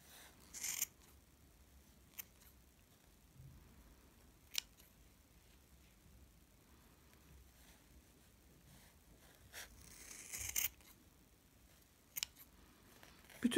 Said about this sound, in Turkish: katlı bölümleri büyük bir makas ile şu şekilde uç noktalarından kesiyorum